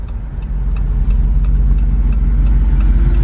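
Stopped at a traffic light, a 2021 Jeep Wrangler Rubicon 392 V8 HEMI idles with a low, steady, loud burble and faint ticking over the continuous rumble.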